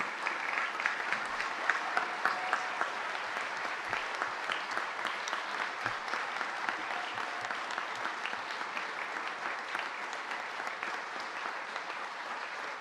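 A large audience at the Los Angeles State of the City address applauds honorees, a long, steady roar of many hands clapping, slightly distant and sustained without pause.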